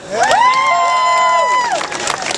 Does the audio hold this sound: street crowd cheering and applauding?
yes